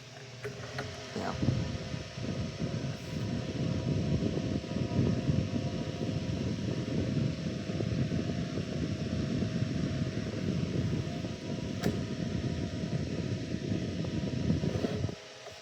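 A restored Kenmore 8-inch desk fan with a 36,000 RPM two-pole motor runs continuously, a steady low whirring hum with airy rush throughout, with no speech.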